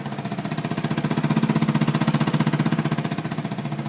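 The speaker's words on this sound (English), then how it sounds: "Now what you're hearing is a very, very throaty Vespa." A Vespa scooter engine idles with a throaty, rapid pulsing beat from a damaged exhaust gasket, steady and close, with no other sounds.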